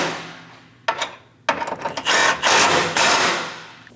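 A wrench snugs the bolts on the front bumper braces of a Dodge Durango. Close, sharp metallic clicks and rasping turns come in quick, uneven bursts, growing denser and louder toward the end. No one speaks.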